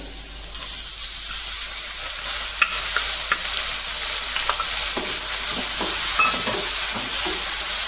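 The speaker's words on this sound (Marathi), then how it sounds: "डाळ 1-2 मिनिटं परतून घ्यायची आहे" Dal sautéed with golden onions in a pan for a dill-leaf vegetable dish, heard as a steady, loud frying hiss with occasional spoon scrapes and stirring clicks, close up and without talking.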